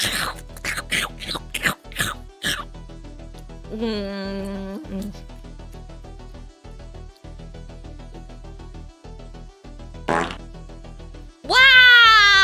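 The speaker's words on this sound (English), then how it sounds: "You didn't have to fart directly in my mouth!" A comical fart-like blast erupts over a steady electronic hum on a hobby stream, followed by a burst of speech, a short exclamation and another loud squealing noise near the end.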